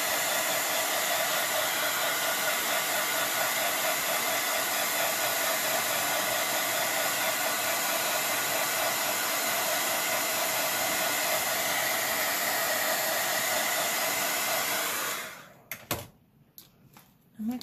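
A hair dryer blows steadily to dry paint on a rock for a fairy house, a loud continuous whoosh lasting about fifteen seconds before it clicks off, leaving a few faint handling knocks.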